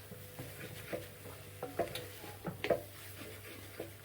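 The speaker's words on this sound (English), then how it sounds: "Mix in the flour, about the equivalent of a tablespoon in this case." Flour being stirred into vegetables in a pot for sweetcorn chowder, heard as soft scraping and shuffling strokes with light clinks, moderately close and fairly quiet, without talk.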